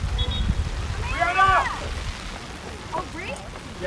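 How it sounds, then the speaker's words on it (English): Heavy rain pours steadily during an outdoor youth soccer match, a dense continuous hiss close to the microphone, with voices talking over it throughout. "this is the worst of the rain that we have seen so far"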